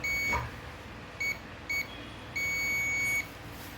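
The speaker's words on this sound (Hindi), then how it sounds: "इसे कंटिन्यूटी बजर के मोड पे रखते हैं" A multimeter's continuity buzzer sounds during checks on an LG LED TV motherboard for short-circuit faults: a short first beep, two brief blips, then a sustained tone of nearly a second, clear and close with no talk.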